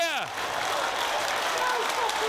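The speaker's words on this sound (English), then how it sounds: "A rush of applause in the commentary box" Applause and crowd noise swell after a goal at a football match between AFC Telford United and Barnet, a broad wash of cheering and clapping with overlapping voices throughout.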